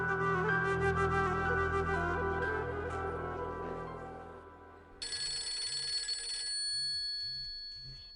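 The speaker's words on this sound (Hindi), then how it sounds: "फहद का फोन है" A telephone rings in a drama scene, bright electronic ringing that cuts in midway over fading background music, repeating in steady bursts, with no talk.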